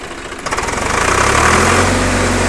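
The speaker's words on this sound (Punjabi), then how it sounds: "ਇਹ ਸਟਾਰਟ ਕਰਕੇ ਦਿਖਾ ਯਾਰ ਆਪਾਂ ਇਹਦੀ ਬੜਕ ਦੇਖਦੇ ਆਂ" A Swaraj tractor engine cranks and fires, then runs loud and close with a rough, rapid diesel throb that grows as it is revved.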